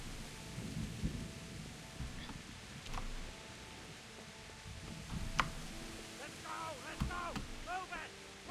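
Steady rain pours with thunder rumbling through a medieval video-game storm in Kingdom Come: Deliverance, a continuous wash of noise with low booms and a few sharper cracks, while faint game sounds drift over it.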